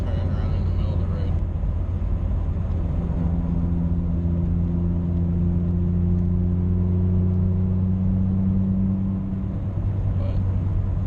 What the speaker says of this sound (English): It's been a while since I drove this car.